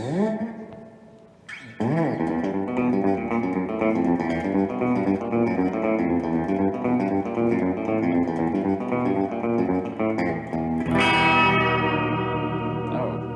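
Electric guitar chords played through a T-Rex spring reverb pedal, wet and splashy with a drippy, twangy tail, loud and continuous, ending in a brighter strummed swell.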